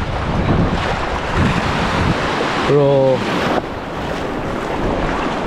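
Ocean surf rolling onto a beach at Sipalay, a steady broadband wash of waves mixed with wind buffeting the microphone, with a brief spoken word and a short tonal sound partway through.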